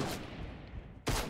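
Fortnite gunfire in two bursts: a loud volley at the start, then a steady rumbling spray, then another sharp burst about a second later.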